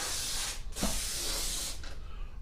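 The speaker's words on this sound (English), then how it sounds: "So we're going to go ahead and spray our track down now, just by spraying it all around." Lubricant sprays from an aerosol can onto an overhead garage door track in steady, close hissing bursts, broken by a short pause and a brief gap near the end.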